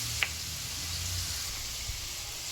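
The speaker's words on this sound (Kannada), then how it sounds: "ಇವಾಗ ಕಡಲೆಪಪ್ಪು, ಕಡಲೆ ಬೀಜ, ಕರ್ಬೇವಿನ ಸೊಪ್ಪು, ಒಣಮೆಣಸಿನ್ಕಾಯಿ, ಬೆಳ್ಳುಳ್ಳಿ ಎಲ್ಲ ಚೆನ್ನಾಗಿ ಫ್ರೈ ಆಗಿದೆ" Chana dal, peanuts, curry leaves, dried chillies and garlic sizzle in hot oil for a ragi avalakki snack, a steady close frying hiss with a couple of faint clicks of stirring.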